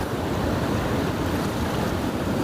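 Ocean surf washes steadily onto St. Mike's beach on a morning of swimmers and paddle boats, a continuous broad roar of breaking waves with wind buffeting the microphone, loud and unbroken with no voices.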